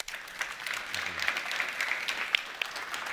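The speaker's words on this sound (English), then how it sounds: "Please join me in giving our panelists a round of applause." Soft, sparse applause from a summit audience for a panel, a light patter of claps that stays faint and fairly distant with a few sharper hand claps standing out.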